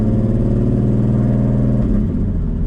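An Audi RS3 with a swapped VR6 engine pulls away in gear, a loud, steady droning rumble close by with a slight dip in pitch near the end.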